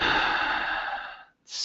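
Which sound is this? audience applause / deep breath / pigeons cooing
deep breath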